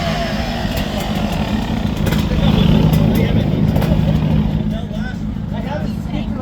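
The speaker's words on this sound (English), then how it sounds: "Here comes the two-stroke." A two-stroke off-road race vehicle at a Mint 400 festival on Fremont Street roars loudly and steadily as it passes close by, with a crowd's noise and talk around it.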